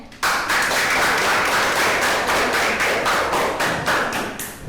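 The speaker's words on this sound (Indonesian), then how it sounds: "Silakan tepuk tangannya." A room full of people claps steadily for several seconds, loud and close, tapering off slightly at the end.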